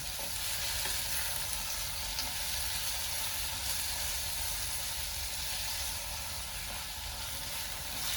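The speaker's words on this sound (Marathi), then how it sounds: "दोन टमाटर छोटे कट करून घेतलेले आहेत। आता ते आपण परतून घेऊया।" Small-cut chopped tomatoes sautéing in a pan produce a dense, continuous hissing sizzle, steady and close, with no talking.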